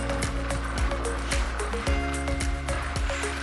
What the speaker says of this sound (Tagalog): Talagang deep bassy feels yung tunog ng pipe natin after the DIY.